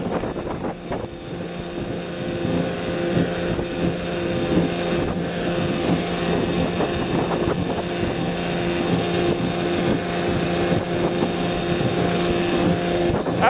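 A boat runs on a 1960 West Bend 12hp outboard motor at speed, a steady smooth engine drone with rushing wind buffeting the microphone throughout.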